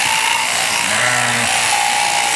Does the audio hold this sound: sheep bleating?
yes